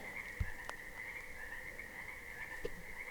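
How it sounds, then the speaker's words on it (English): Frogs croak in a meadow in Lassen Volcanic National Park, a steady trilling chorus running throughout with a few louder, closer croaks standing out, and no talking. "all the frogs just keep going off and off and off"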